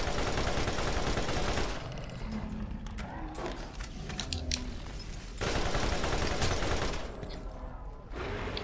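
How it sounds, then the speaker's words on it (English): Video game gunfire while shooting enemies in Borderlands: loud rapid automatic bursts, a quieter gap with scattered shots and game sounds, then another long sustained burst. "when you are shooting them, don't shoot them in the head"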